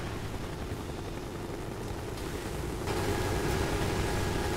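Helicopters in the Call of Duty Black Ops campaign pass overhead with a steady, loud rotor drone that swells slightly near the end.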